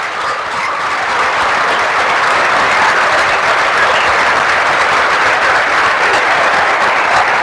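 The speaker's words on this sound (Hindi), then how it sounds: "जोरदार तालियां हाथ ऊपर करके।" A large crowd at a selection celebration bursts into loud, sustained applause, a dense wash of clapping that runs unbroken and evenly loud throughout.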